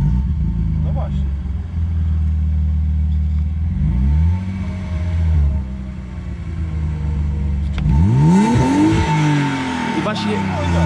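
A BMW M52B25 inline-six engine running on LPG idles with a low rumble, then revs up twice in rising and falling sweeps, while people talk nearby.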